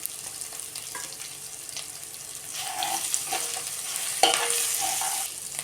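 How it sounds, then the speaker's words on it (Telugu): Broad bean pods and turmeric being stirred through a frying curry in a pan, a steady sizzle with occasional spoon scrapes and clinks, no talking. "ఇప్పుడు మొత్తం కలిసేలాగా బాగా కలుపుకోవాలి దీనిలోకి ఒక స్పూన్ పసుపును యాడ్ చేస్తున్నాను"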